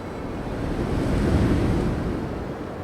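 A steady rushing roar of a 90-foot waterfall, Lower Balls Falls in Ontario, swells slightly and eases, broad and continuous, with no voices.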